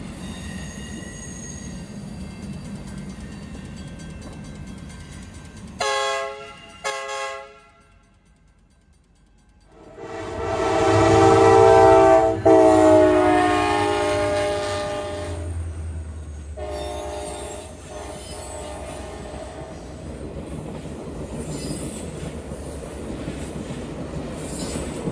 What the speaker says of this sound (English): the train picks up some speed as it continues on down the line